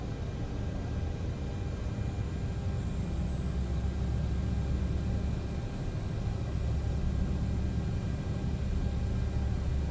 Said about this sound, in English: APU power switch can come on, and we'll start the APU.